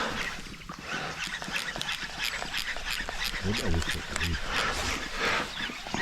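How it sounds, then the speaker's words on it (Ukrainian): Ducks quack a few times on the Horyn River, where swans are also present, over steady outdoor background noise, moderately close but not loud. "Качки, лебеді."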